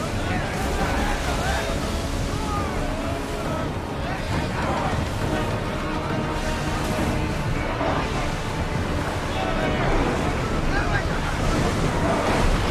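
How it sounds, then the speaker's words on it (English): Steady roar of rough sea waves and gusting wind in a storm in the game Assassin's Creed Odyssey, loud and continuous throughout, with faint voices mixed in. "That storm looks nasty!"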